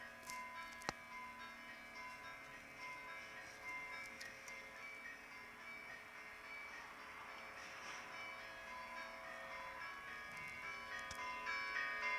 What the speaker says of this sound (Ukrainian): церкві дзвонять дзвони